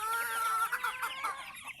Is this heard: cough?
no